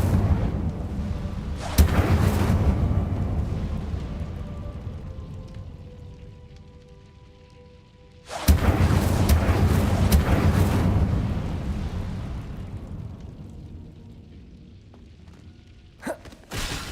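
Incendio fire spell cast in Hogwarts Legacy: two heavy fiery bursts with booming rumble, each erupting suddenly then roaring and slowly fading, with a small sharp crackle near the end.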